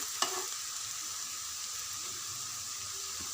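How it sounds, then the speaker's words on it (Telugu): Garlic chili powder frying and being stirred in an oil-filled pan for leftover-rice tempering, a steady close sizzle with a brief scrape of the spoon near the start. "ఇవి ఇలా ఫ్రై అయ్యాక మనం తయారు చేసుకున్న వెల్లుల్లి కారం ఇవి వేసి బాగా కలపాలి"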